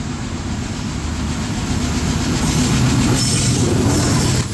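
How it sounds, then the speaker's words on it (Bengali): Kapotaksha Express, the Rajshahi–Khulna train, runs through a station on a single-line route without stopping, a loud, steady rumble of wheels and carriages with faint squeal and clatter that swells slightly toward the end. "থ্রুপাস করে যাচ্ছে রাজশাহী খুলনার মধ্যে পরিচালিত অ্যাম্বুলেন্স ট্রেন নামে পরিচিত কপোতাক্ষ এক্সপ্রেস"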